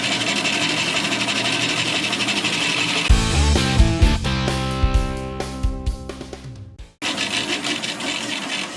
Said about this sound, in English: I just start up the bandsaw and cut them out